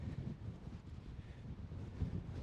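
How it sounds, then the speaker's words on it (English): Steady wind buffets the microphone in low, rumbling gusts, fairly quiet and continuous with no voices; a gust front crossing open desert, blowing about 40. "Check out the gust front moving across the desert floor. It's really windy where I'm at."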